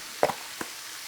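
Vegetables and chilies with cumin and paprika sauté in a pan with a soft, steady sizzle, broken by a couple of brief knocks or stirring clatters, fairly close, with no voices.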